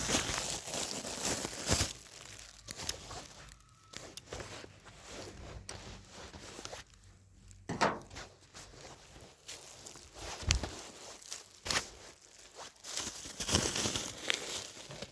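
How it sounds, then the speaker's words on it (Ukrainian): Plastic film wrapping on a candy feed pack for wintering bees being trimmed and handled, with close crinkling and rustling and scattered sharp crackles and snips, no speech. "І цю плівку я теж. Теж обрізаю."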